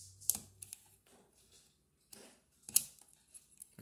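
A mechanical keyboard switch is pried open with tweezers after its keycap comes off, giving two sharp, quiet plastic clicks spaced a couple of seconds apart, close by in an otherwise hushed room.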